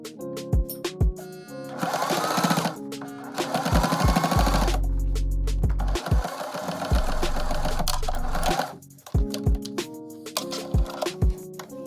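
Sewing machine stitching pleats closed on a wide-leg jumpsuit, heard in several loud rapid bursts of mechanical chatter separated by short pauses and clicks, close and alone.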